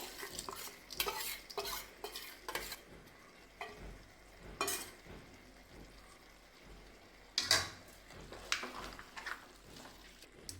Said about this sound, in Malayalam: അതുകൊണ്ട് നമുക്കിതൊന്ന് ഇളക്കി അടച്ചു വെക്കാം.